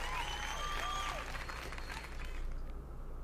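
A graduation audience claps steadily for a few seconds, a dense patter of many hands with light crowd noise.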